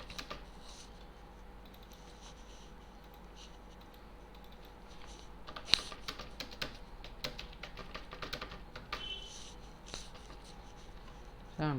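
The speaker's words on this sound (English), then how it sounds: "so I am typing, this is a sample text." Soft, irregular keyboard tapping runs throughout, quiet clicks with a few sharper strokes, against a faint steady background hum.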